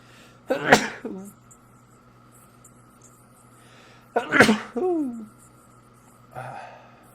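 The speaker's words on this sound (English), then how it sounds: "I just sneezed my pants." Two sharp, close sneezes burst out a few seconds apart, each with a quick gasping intake, followed by a softer vocal sound.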